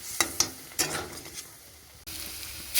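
Ground masala spices, turmeric, coriander and chilli powder frying in a pan, with a soft sizzle and several sharp spatula scrapes and knocks against the pan, close and fairly quiet.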